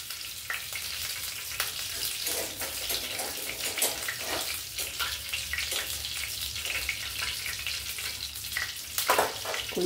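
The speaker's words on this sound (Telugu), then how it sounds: "కొంచెం తడి ఉందండి, అందుకే చట్పట్ అంటుంది." Dried vadiyalu fritters crackle and sizzle in hot oil in a home kitchen, with dense, irregular popping and spitting close by. It keeps going throughout and grows a little louder toward the end.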